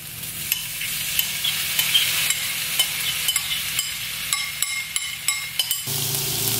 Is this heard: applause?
no